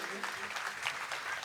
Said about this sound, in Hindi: एक बार जोरदार तालियां बजाइए इनके लिए